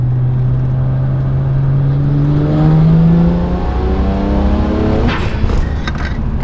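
BMW E90 335i with a Borla exhaust and stage 1 tune accelerating hard, loud engine rising in pitch through gears from inside the car, followed by a brief shift before easing off.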